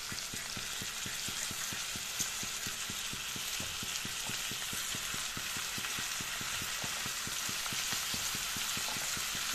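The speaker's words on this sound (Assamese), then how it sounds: "ইয়াতে এতিয়া মাছকেইটা বহুৱাই দিম।" Small fish fry in hot oil in a pan with a steady, dense sizzle and rapid crackling pops throughout, heard close with no talk.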